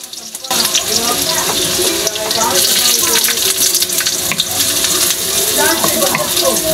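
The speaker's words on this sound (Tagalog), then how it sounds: "mag-start na po tayo maggisa ng ating bawang sa 4 na kutsarang mantika" Garlic sautés in four tablespoons of cooking oil with a steady, loud sizzle and crackle, broken by occasional stirring and clinking and some background noise.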